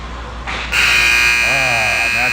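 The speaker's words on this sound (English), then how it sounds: "that's the buzzer" A loud, sustained electronic buzzer blares at the end of a period in a youth hockey arena, kicking in sharply and holding steady while an announcer talks over it.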